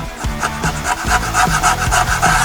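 A close, loud scraping repeats in quick rhythmic strokes as a scraper rasps a cork gasket off the metal of a Dodge Ram 1500 transmission part, with no voices.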